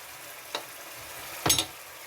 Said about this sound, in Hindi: साथ ही अपनी जो चिकन है वो डाल के इसकी बुनाई शुरू करेंगे।